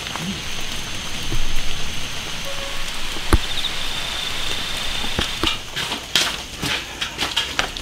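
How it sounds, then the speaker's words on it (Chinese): Steady rain patters on surfaces outdoors on a cold day while pig brains are grilled, a dense continuous hiss broken by occasional sharper drips and knocks close by. "下雨天冷"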